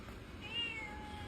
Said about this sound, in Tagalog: special ang hayop na pusa na yan